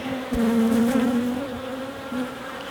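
Honeybees buzz steadily at an open hive during a queen inspection, a dense close drone with a few louder passes as individual bees fly near.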